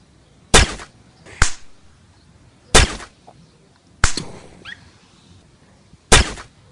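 Gunshots in a shooting video game, five sharp, loud cracks spaced irregularly about a second or more apart, each followed by a short decaying tail, with no talk over them.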